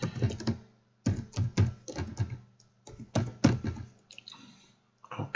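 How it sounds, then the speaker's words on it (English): Rapid clattering keystrokes on a computer keyboard as a web address is typed, coming in close, loud bursts separated by short pauses, with no voices. "I'm going into Chrome now. And what I do is type in this URL."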